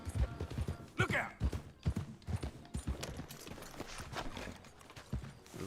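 Horse hooves clip-clop in a steady, close, uneven rhythm while riding in Red Dead Redemption 2, with a brief whinny-like burst near the start and talking over parts of it.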